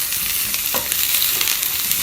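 Onions frying in olive oil in a pan while being stirred, giving a steady, loud sizzle with soft scraping from the stirring throughout.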